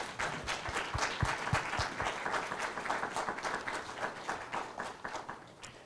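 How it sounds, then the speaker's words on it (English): Dense, steady applause from an audience at an African Union model conference opening ceremony fills the space, many hands clapping together and sustained throughout without speech. "So please, can we give a big round of applause?"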